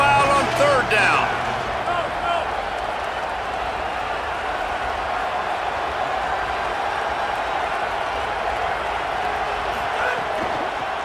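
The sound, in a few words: football crowd getting loud on third down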